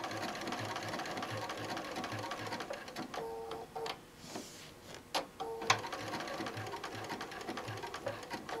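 A sewing machine stitches along a pre-printed quilt pattern in steady rapid bursts, pausing midway as the presser foot lifts to pivot before the stitching resumes at an even pace.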